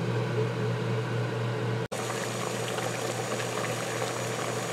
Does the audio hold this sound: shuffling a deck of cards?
no